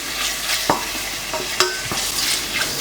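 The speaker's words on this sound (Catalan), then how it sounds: "I els començarem a fregir." Squid sizzling and frying in a pan, a steady crackle with a few sharp clicks and scrapes of stirring, close and fairly loud.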